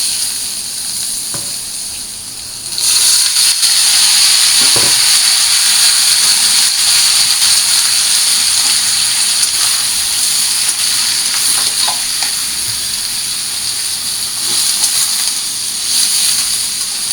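Vegetables tossed with panch phoron five-spice into a hot pan, a loud sustained sizzle bursting in after a quieter start and holding steady, with occasional stirring taps.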